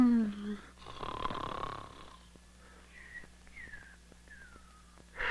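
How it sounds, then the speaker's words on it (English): Cartoon snoring from a 1970 animated character, drawn-out rasping inhalations followed by a series of whistling exhales that rise and repeat rhythmically, clear and close with a faint background hum. "Either stop snoring or cover your head with pillows"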